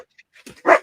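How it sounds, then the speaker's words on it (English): A single short dog bark, close and fairly loud, preceded by a couple of faint little sounds. "got Jasper barking"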